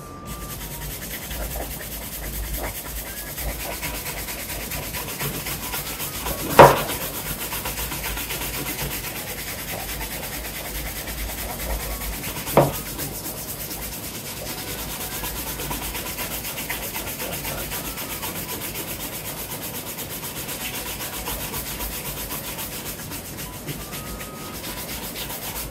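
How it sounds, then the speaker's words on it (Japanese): Steady, close brushing and rubbing on Allen Edmonds leather shoes during polishing, a continuous soft scratchy swish with two brief sharp knocks, no talking. "はい、ブラッシングしていきます"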